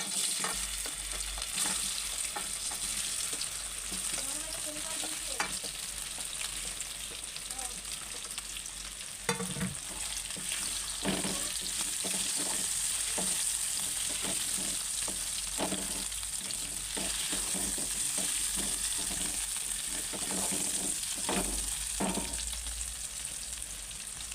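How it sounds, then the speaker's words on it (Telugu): Cut potatoes frying in hot oil with cumin seeds, a loud continuous close sizzle throughout with frequent clinks and scrapes of a spatula stirring in the pan. "మనమైతే పొటాటో కట్ చేసుకుని వేసుకోవాలి"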